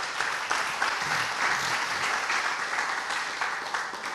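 A church congregation applauds steadily for about four seconds, a dense, even wash of many hands clapping with no voices rising above it.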